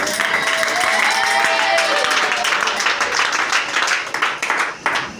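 A church congregation applauding and cheering to acclaim the Lord, a dense, loud wash of clapping and crowd voices that carries throughout, with a preacher's voice over it.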